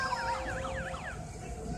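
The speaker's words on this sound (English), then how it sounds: "It sounds like cop. The cop sirens." Police sirens wail at a Christmas boat parade, rising and falling in a rapid yelp pattern at moderate distance, fading out after a second or so against outdoor background noise.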